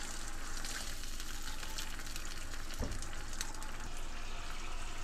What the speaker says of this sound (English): we put in 3 tablespoons of fish sauce and stir everything together